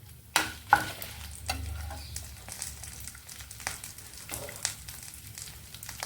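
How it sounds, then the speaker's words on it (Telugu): Lentils and dried chillies fry in a pan while being stirred, giving a soft continuous sizzle with intermittent scraping and clinking of the spoon against the pan, close up and steady. "కొంచెం పప్పు తీస్తానండి, నలిగింది, వేగింది. ఇప్పుడు దీంట్లో మిరపకాయలు వేసుకున్నామండి"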